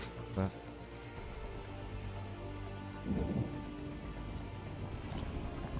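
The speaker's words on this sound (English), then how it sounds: "Thunderstorms on this map as well, right?" Thunderstorm weather in a StarCraft 2 match map, steady rain hiss with low rumbling thunder swells, running continuously beneath a commentator's voice.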